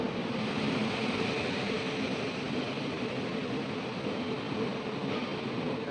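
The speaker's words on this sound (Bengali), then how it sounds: "এদিক দিয়ে দেখো আমাদের ট্রেন চলে আসছে" A passenger train on the Rayagada to Koraput line in Odisha arrives at a station, its steady broadband rumble and rail noise continuous and fairly close throughout, with no speech over it.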